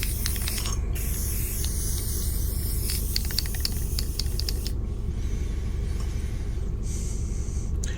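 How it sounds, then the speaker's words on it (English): Continuous hissing bursts of an aerosol spray can painting a PVC yard sign, steady and close, with brief pauses between long sprays. "I spray painted the body of the bear a dark brown"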